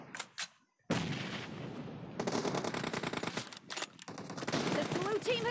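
Bursts of automatic gunfire in the PUBG Mobile team deathmatch game, loud and close, with rapid sustained fire and short pauses between volleys.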